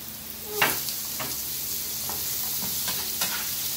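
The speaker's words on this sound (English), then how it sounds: "now we're going to put in our garlic. And we're also going to add our saltfish." Garlic and saltfish sizzle steadily in a hot pan, with a soft frying hiss and a few stirring scrapes, heard close and fairly quiet with no talking.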